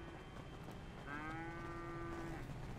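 A cow in the video game GTA 5 lets out one drawn-out, fairly faint moo against a quiet background, with no speech.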